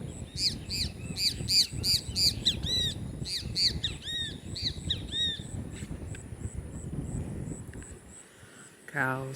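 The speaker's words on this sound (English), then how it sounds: "Beautiful birds." Birds chirp and call repeatedly at a private nature resort in Guyana, bright rhythmic tweets clustered early and then sparser, over a low rumble of background noise, with one sharp call at the end.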